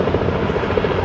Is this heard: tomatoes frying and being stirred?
no